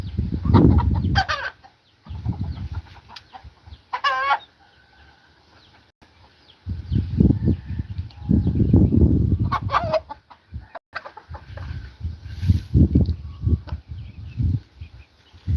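Chickens on a small farm cluck in loud, close bursts separated by short pauses, with one sharper squawking call standing out among the repeated low clucks.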